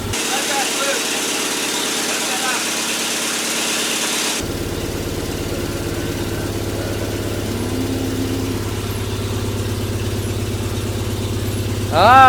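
A Mazda project car's engine runs after its first start, a steady idle with a rattling, buzzy exhaust tone that shifts lower partway through, and people speak briefly over it.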